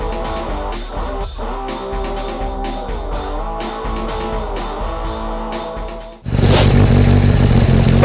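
Kawasaki ZZR1200 motorcycle engine running at a snowy winter camp, harmonic revs rising and falling with pops before a sudden louder, rougher roar near the end, close and without talk.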